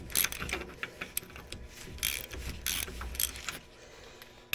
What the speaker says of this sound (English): Okay, so we got the nut off the bottom ball joint